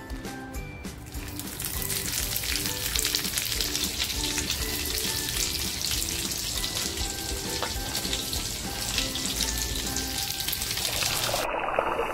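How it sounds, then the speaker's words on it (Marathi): Squid stuffed with prawns frying in a pan, a continuous bright crackling sizzle held at an even level for the whole stretch, close and without talk. "याच्यात फक्त हे स्टफ केलेले माकुल आहे ना, ते टाकून मी फ्राय करून घेते"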